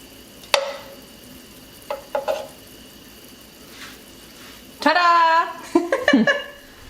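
Chorizo frying in oil in a small pot, with a low sizzle and stirring scrapes under a voice, plus a sharp clink early on.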